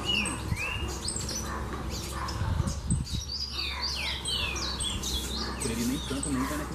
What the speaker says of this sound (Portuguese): Chupim.